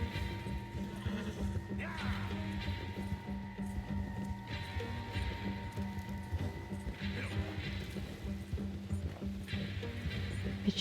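A horse gallops in a video game, with rhythmic hoof clip-clops and neighing under constant game background noise.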